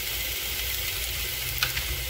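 Tomatoes and onions sauté in a pan for tomato gotsu, a steady close sizzle and fry hiss running throughout with a brief stir clatter near the end, no voices.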